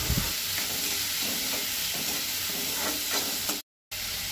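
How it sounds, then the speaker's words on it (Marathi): Chopped spring onion and chilies fry in hot oil for a Goan onion-leaf bhaji, giving a steady, close sizzle with faint stirring; the sound cuts out completely for a moment near the end. "कांदो येता तो बरो 2 मिनटां परतून घेवंक जाय।"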